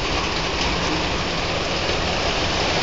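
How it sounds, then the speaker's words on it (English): Heavy rain pours down during a storm, a dense steady roar of drops drumming on surfaces nearby with no break. "How hard is the rain right now?"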